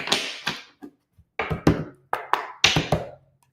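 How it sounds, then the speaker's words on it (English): Tarot cards being shuffled during a romance reading, giving a run of crisp, close riffling taps and flicks in short bursts separated by brief pauses, with no talking over them. "I need to shuffle again."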